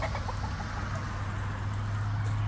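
Hens clucking softly on a chicken ranch, a few short calls over a steady low hum, no voices.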